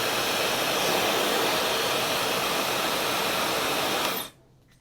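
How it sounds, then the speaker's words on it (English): An ALLOOM high-speed blow dryer blasting a steady, loud, close rush of air for about four seconds before it switches off and falls quiet. "Oh, that comes out at a nice steady stream. Definitely could blow dry pretty well."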